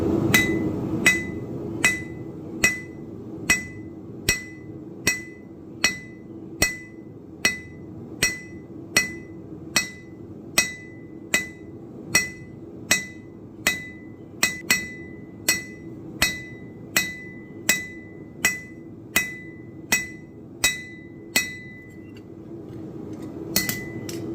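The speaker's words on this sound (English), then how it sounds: "I'm just going to make a pass, hammer on the flat" Sharp metallic hammer strikes on knife steel being forged, hammering on the flat, ring out at a steady, even rhythm, about one per second, close and loud over a low background hum.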